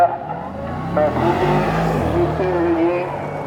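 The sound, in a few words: race cars passing on a hill climb course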